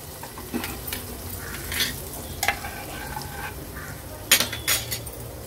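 A tempering of oil with asafoetida and turmeric sizzles steadily in a pan for dal while a spoon scrapes and clinks against the metal in scattered strokes, louder toward the end; no one speaks.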